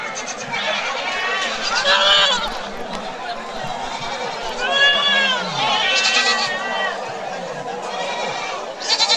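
Goats of local native breeds, in many colours, bleat repeatedly in a busy outdoor goat market, several overlapping wavering cries rising above a steady murmur of crowd noise and talk.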